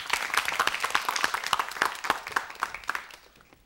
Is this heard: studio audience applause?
yes